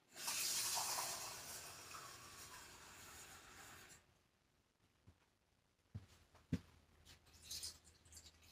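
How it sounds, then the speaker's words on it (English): Water pouring into a pot of cooking pasta with a hissing, splashing rush for about four seconds, followed by quieter bubbling and a few light clinks. "we're going to add some more water."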